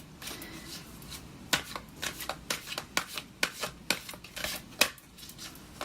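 Tarot cards are shuffled by hand close by, with a series of sharp riffling bursts and soft slaps arriving in an uneven rhythm over a quiet background.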